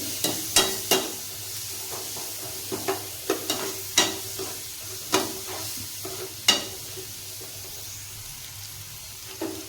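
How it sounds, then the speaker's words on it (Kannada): Pan-frying for a Kannada chavalekai (cluster bean) palya, with steady sizzling broken by repeated stirring clinks and scrapes, close and loud with no talking. "ಇದು ಗೋಲ್ಡನ್ ಬ್ರೌನ್ ತನಕ ಚೆನ್ನಾಗಿ ಕಲರ್ ಬರಲಿ."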